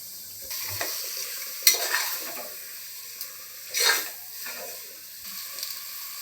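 Chicken is stirred into sizzling biryani masala: a low steady fry broken by a few scraping, stirring bursts of the ladle against the pot.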